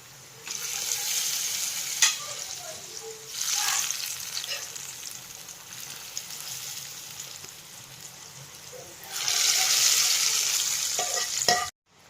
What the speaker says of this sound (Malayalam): ഇനി നമുക്ക് അതിലേക്ക് നമ്മൾ കടുക് പൊട്ടിച്ച് അങ്ങോട്ട് ഇടാൻ പോവാം